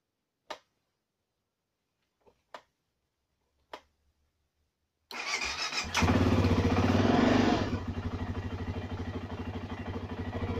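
A BMW F650CS motorcycle starting for the first time this year after its throttle body was cleaned: a few faint clicks, then the engine catches and revs loudly before settling into a steady, close idle.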